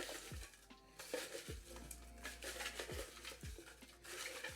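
A pot being stirred, quiet clinking and scraping of a utensil with repeated soft knocks against the sides, faint and close.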